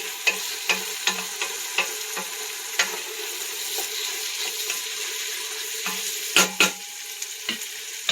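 Soup ingredients for a vegetable and beef soup sizzling in a pot on high heat, a continuous close fry with repeated scraping clicks of a spoon stirring.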